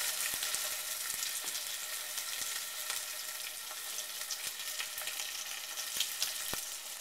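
A pork roast stuffed with ham and cheese sears in a hot pan, giving a steady close-up sizzle and crackle with faint pops scattered through, running unbroken and alone for the whole stretch.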